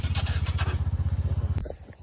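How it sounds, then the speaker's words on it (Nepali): A motorcycle engine runs close by with a rapid, even putter, then cuts off abruptly with a sharp click, leaving only faint after-sounds. "bike start हान्यो"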